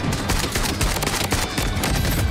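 Rapid continuous gunfire from the Origin 12 shotgun in the shooter game Blood Strike, a dense, loud barrage of overlapping blasts that fills the whole moment without pause.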